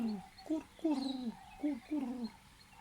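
Birds calling outdoors in a few short, repeated cooing phrases with pauses between, fairly close and moderately loud, no talking.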